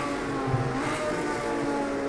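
A 1970 Ferrari race car engine drones steadily at night in Project CARS 2, a sustained harmonic whine holding a constant pitch and level.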